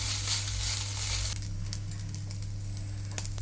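Basmati rice fries in a hot pan with a steady, close hiss and faint crackle, louder at first, then settling to a softer sizzle with a few light stirring ticks.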